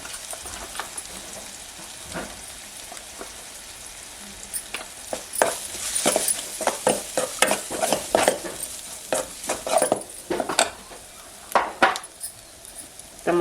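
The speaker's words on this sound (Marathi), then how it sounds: "मसाले परतून झाले आहेत" Turmeric and red chili powder fry in oil with tomato masala in a pan over a village wood-fire stove, with irregular scraping and clinking stir strokes over a soft, close sizzle, growing busier midway.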